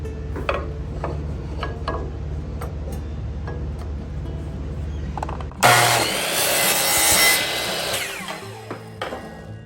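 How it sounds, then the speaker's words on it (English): An old wooden spindle is cut for a handle: faint taps and handling noise give way to a close, harsh cutting burst lasting several seconds near the end. "I'm going to take an old spindle and I'm going to cut that for the handle itself"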